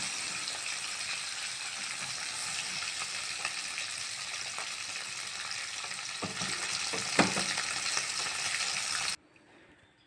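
Paneer sizzles steadily in hot oil with turmeric added, a close, even frying hiss that swells slightly near the end before cutting off abruptly.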